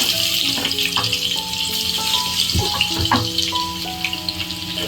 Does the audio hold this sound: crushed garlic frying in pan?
yes